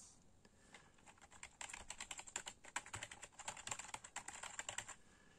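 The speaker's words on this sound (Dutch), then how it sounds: "Het toetsenbord werkt perfect." Keys clacking steadily on an Amiga 1200 computer keyboard, a fast irregular run of close, crisp keystrokes with no talking.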